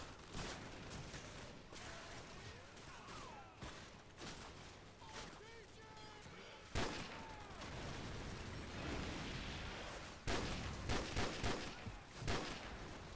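Rapid automatic sniper rifle fire in Call of Duty 4 Modern Warfare, sharp cracking shots in bursts over steady game background noise, with someone talking between and over the shots.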